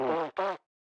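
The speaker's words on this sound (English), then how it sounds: "the oxidized one is basically a fart sound effect" Two short, buzzy, fart-like blasts from the oxidized copper trumpet in Minecraft, the first longer than the second, close and loud with nothing else heard.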